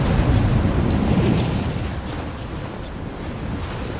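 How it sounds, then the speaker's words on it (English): Strong mountain wind roars across a summit in Rise of the Tomb Raider, a loud, steady broadband rush that gusts hardest early on and then settles into a continuous howl, with no voices over it. "This wind is crazy!"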